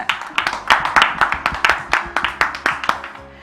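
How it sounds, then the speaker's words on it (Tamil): Rhythmic clapping from a small studio audience on a Tamil Christian television program, a steady beat of distinct sharp claps close by, fading out at the end. "கைதட்டுங்க."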